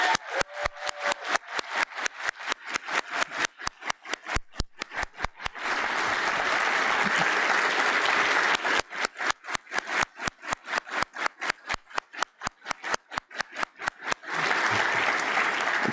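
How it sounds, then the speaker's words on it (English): Audience applause at the closing session of a film conference, loud and close, moving between stretches of rhythmic, evenly spaced clapping and dense, sustained ovation with no talk. "Big round of applause for Fatima DJOUMER."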